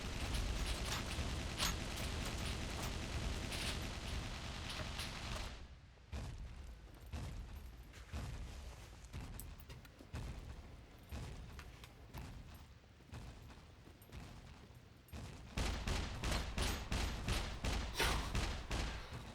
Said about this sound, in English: the one that's shooting at me now